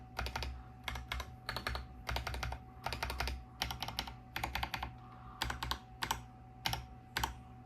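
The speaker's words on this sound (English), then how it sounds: "That spacebar sounds pretty good. Oh yeah, that enter." A mechanical keyboard is typed on in short bursts of crisp, clacky keystrokes, with deeper thocks from the spacebar and enter key and brief pauses between runs, close and clear.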